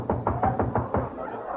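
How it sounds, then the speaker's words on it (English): Knocking on a door as a sound effect in a radio comedy: five evenly spaced, muffled knocks in quick succession, followed by a short fading tail. "Suddenly, there's a knock on the door."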